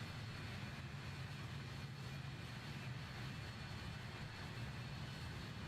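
A BAe146 airliner climbing toward cruise altitude in Microsoft Flight Simulator 2020, heard as a constant broad, even engine roar with a deep rumbling low end and no talk.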